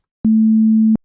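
A plain sine wave bass note from the Operator synth sounds alone, one steady sustained low tone lasting under a second with clean start and stop.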